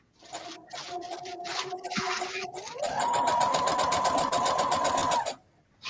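A sewing machine stitches fabric scraps together up close, first in short uneven bursts, then in one steady high-pitched whirring run before stopping abruptly, with no talking.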